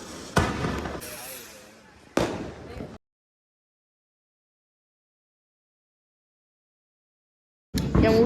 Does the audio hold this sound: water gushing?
no